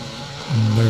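A Honda 250 scrambler at the Westmoreland Golden Jubilee Scramble, its engine rising suddenly into a loud, steady droning roar midway through, close and alone without talk.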